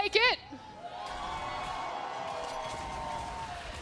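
An arena crowd cheering for MrBeast at a gaming event, a sustained roar of voices following a short burst of a louder voice at the start.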